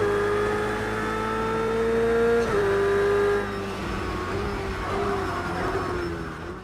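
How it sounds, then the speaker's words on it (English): A car engine in the racing game Project Cars 2 hums steadily, then shifts gear and revs up again, a smooth mechanical whine held close and loud with no talking. "the immersive, nuanced sound of a car's engine in Project Cars 2."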